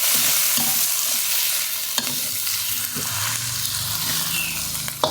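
Immature chicken egg clusters are stir-fried in a pan, giving a steady hiss of sizzling with a spatula scraping and stirring and a few sharp clinks against the pan, close and constant, with no voices.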